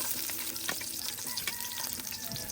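Oil with garlic, onion and ginger frying in a hot pot set over a wood fire, a steady dense sizzle with scattered crackles and pops, close and continuous, no voices.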